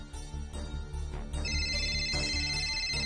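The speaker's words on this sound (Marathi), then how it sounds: "एक मिनिट मॅम, मी फोन रिसीव्ह करते." A mobile phone ringing indoors with a bright, repeating electronic ringtone melody, fairly faint, building over a few seconds with no one speaking.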